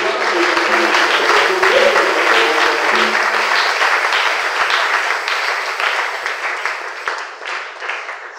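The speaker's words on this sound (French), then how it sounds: "acclamons tous le Seigneur." A church congregation breaks into loud, sustained applause that fills the hall for several seconds, gradually thinning and tapering off, with a voice briefly audible early on.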